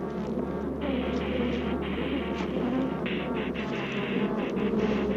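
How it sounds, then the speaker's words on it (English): A swarm of killer bees on the attack near their hive, a dense, steady buzzing drone that fills the air continuously, close and sustained with no pauses. "Even as Dr. Gary left the hive area, the bees persisted in their attack."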